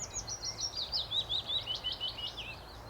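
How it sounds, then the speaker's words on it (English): A sedge warbler sings near an oak tree in sparse reed habitat, a rapid run of high chattering, scratchy phrases delivered continuously and fairly faint against quiet background. "a sedge warbler started up now, so there's now a sedge warbler down here"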